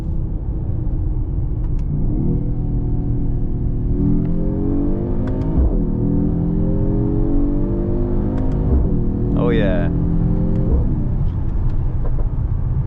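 A Mercedes GT43 AMG engine with stock exhaust revs up through rising gear pulls, a steady loud droning hum climbing in pitch, close by; a voice briefly murmurs.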